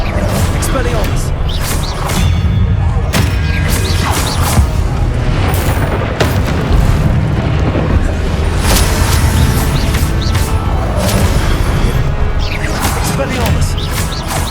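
Repeated magical spell blasts in Hogwarts Legacy combat, a run of sharp cracks and booming impacts spread over the whole stretch, with a dense game soundscape beneath.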